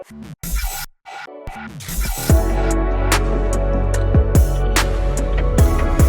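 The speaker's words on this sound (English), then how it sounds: "More glitchy bass noises and transition." Choppy, stuttering glitch bursts and dropouts lead into a heavy, sustained sub-bass with sliding bass hits and sharp percussive clicks, loud and dense.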